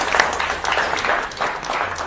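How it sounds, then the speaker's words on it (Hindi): Loud, sustained applause fills a TV studio, a dense wash of many hands clapping at once, surging and easing slightly across the whole stretch with no voices over it. "जोरदार तालियां।"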